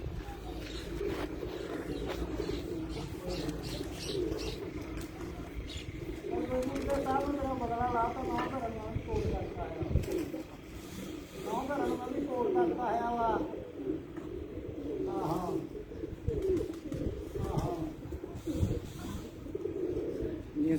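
Racing pigeons coo on a rooftop in soft, repeated bursts mixed with other bird calls, while people talk nearby.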